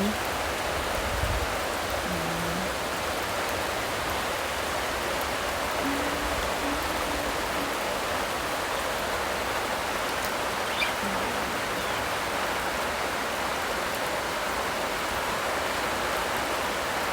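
Rain falls in a steady, even hiss over a field where ube is grown, continuous and moderately loud for the whole stretch, with no voices.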